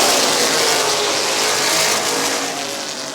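Stock race cars roar around Midvale Speedway, a loud continuous engine drone with revving and tire noise as the pack runs through the turns, the sound gradually fading slightly toward the end.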